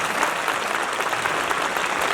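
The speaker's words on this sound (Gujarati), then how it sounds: "આપણે તાળી પાડો." An audience at a public gathering claps for the organisers, a dense sustained burst of applause from many hands, loud and even across the whole moment.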